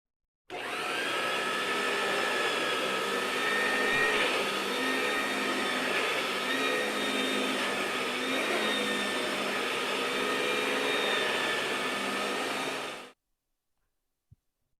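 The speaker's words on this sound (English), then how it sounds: "There you are, vacuum cleaner." A vacuum cleaner drones steadily and loudly for about twelve seconds, switching on abruptly and cutting off at the end, with a brief click afterward and no talking.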